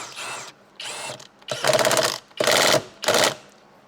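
A ratchet torques down steering column bolts on a BMW E39 540i, heard up close as several short bursts of rapid mechanical clicking separated by brief pauses.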